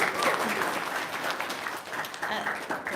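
Audience applause at an Indonesian religious testimony gathering, a sustained dense patter of clapping from a roomful of people, with some voices mixed in underneath.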